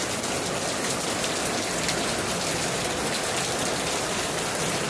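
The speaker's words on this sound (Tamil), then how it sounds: "அந்த டைமில் பாருங்கள் என்ன மாதிரி மழை பெய்யுது. சரியான மழைங்க." Heavy rain pours down in Munnar, a loud, dense, steady hiss of water striking the ground that runs unbroken for the whole stretch with no voices.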